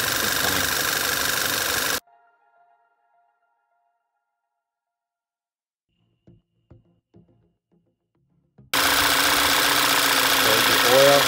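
A Volkswagen Tiguan engine idles with its oil filler cap removed, the car having a P0507 idle fault and whistling noise. The close, steady engine hum breaks off into near silence with a few brief voice sounds, then returns just as loud.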